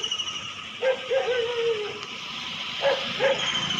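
During a morning walk outdoors, an Australian Kelpie lets out one long, whiny bark followed by two brief yelps, fairly near and alone over low ambient hiss.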